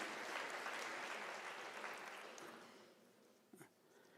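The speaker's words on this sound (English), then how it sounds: "Can you give yourself an applause?" Audience applause at a University of South Africa autumn graduation ceremony, a broad wash of clapping that fades gradually, ending with a brief thump.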